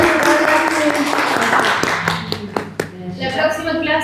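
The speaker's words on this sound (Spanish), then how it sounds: "Aplausos para" A small group claps after a meditation class, with scattered individual claps and voices talking over them, thinning to a few last claps toward the end.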